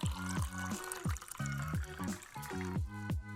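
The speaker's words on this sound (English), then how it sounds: "Add hot water," Hot water is poured into a cup over a teaspoon of instant coffee in a series of short, gurgling pours with brief pauses between them, close up.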